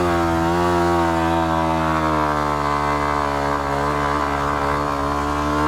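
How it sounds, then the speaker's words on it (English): A Yamaha WR dirt bike engine revving loud and close while riding in deep sugar sand, a continuous buzzing roar with slight pitch rises as the throttle holds. "We're going to try and rip around a little bit and see if we can go a little bit further or a little bit faster with the WR."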